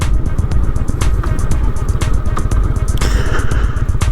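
A Honda Shadow 750 ACE motorcycle rumbles steadily while riding, its close, loud engine pulsing under constant wind buffeting with no pauses.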